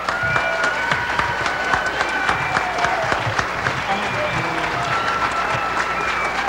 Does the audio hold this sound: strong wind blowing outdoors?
no